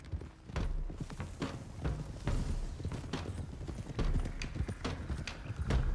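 Several horses gallop together in Red Dead Redemption 2, their hooves giving a dense, steady clip-clop that goes on throughout at close range, with faint creaking of tack now and then.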